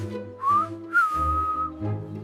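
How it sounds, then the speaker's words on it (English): A person whistles a short tune in a clear, close, steady tone, a few rising and held notes with brief pauses between phrases. "He stood innocently a few steps away, whistling."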